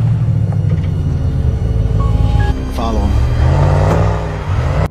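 A car drives along with a steady low engine rumble, while a gang follows in a second car. Background music plays throughout the scene.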